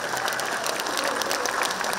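Brisk applause from the crowd at a Korean American Day proclamation celebration, dense and lively clapping at a fairly loud level for the full short stretch.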